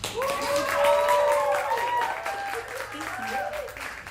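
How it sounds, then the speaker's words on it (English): A crowd applauds steadily with dense clapping, while a voice rises over it and tonal sounds ring through the room. "One more round of applause."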